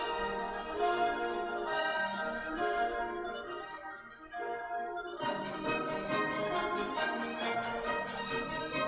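An orchestra plays a classical-era passage, sustained strings and winds layered in full harmony at a steady moderate volume, dipping briefly before a fuller, brighter texture swells back in for the remaining bars.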